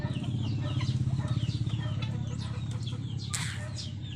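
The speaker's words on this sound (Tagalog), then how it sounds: "May ibon tayo." Chickens clucking repeatedly in a rhythmic run, fairly close, with a sharper squawk near the end and a faint voice in the background.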